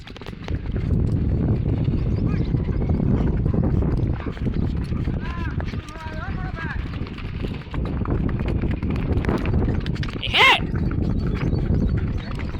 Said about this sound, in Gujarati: ઘોડીઓ હાલે જ ગજબની.